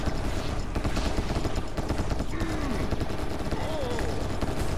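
Shotgun blasts fire repeatedly in Serious Sam VR amid thick, loud, unbroken combat noise, with short bursts packed together throughout.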